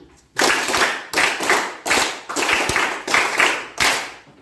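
Roughly ten strong unison claps from a group in a room, a steady, evenly spaced run of crisp bursts following a counted pattern, with no talking over them.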